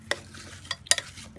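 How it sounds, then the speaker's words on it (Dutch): A spoon stirs chopped onions and apples in a slow cooker, producing a few soft scraping strokes and clinks against the pot, close and fairly quiet, with no voices. "Roer de uitjes en de appeltjes door elkaar in de slowcooker."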